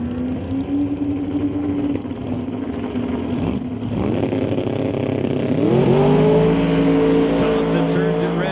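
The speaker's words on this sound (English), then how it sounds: "Little small block Ford. Windsor-based program. Single turbocharger." A small block Ford Windsor-based drag race car with a single turbocharger at Mission Raceway Park roars loudly, its engine pitch climbing sharply on acceleration, with an announcer talking over the noise.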